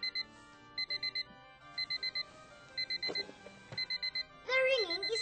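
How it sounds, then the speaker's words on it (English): An alarm clock rings in quick bursts of bright electronic beeps separated by short pauses, while a narrator speaks over it and a sliding tone enters near the end. "The ringing is coming from this clock."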